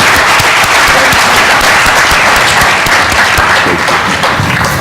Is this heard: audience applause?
yes